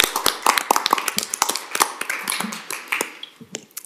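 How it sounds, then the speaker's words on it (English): A few people at a meeting clap in sparse, uneven bursts, with sharp separate hand claps close by and no voices, tapering off toward the end. "But we can clap."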